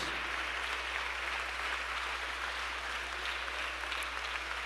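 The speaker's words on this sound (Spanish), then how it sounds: "Un aplauso fuerte para nuestro Dios" A church congregation applauds during a sermon, producing a faint, distant, unbroken wash of many hands clapping over a steady electrical hum, with no talking.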